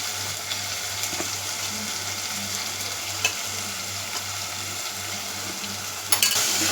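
Ground masala for a fish kulambu sizzles and fries in a pan, a dense continuous hiss with a low steady hum, occasional faint scrapes of stirring, and a brief clatter at the close.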